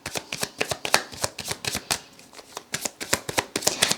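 Tarot cards being shuffled by hand, a steady run of crisp riffling flicks and slaps over four seconds, close and fairly loud, with no talking.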